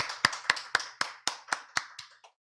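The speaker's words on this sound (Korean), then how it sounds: "우리 하나님께 다시 한번 영광의 박수 올려 드리겠습니다" Church congregation applause during a Sunday worship service, heard as a sparse run of about ten distinct claps at a steady half-second rhythm, sharp and close, fading at the end, with no talking.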